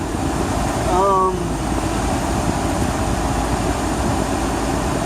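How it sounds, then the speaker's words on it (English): A car's air conditioning blows inside the cabin as a constant, loud hiss and hum, with a brief whistling chirp near the start. "sorry about the AC noise."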